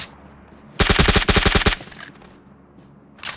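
A rapid burst of automatic gunfire in PUBG Mobile, about ten loud close shots in under a second, then quieter background game sounds.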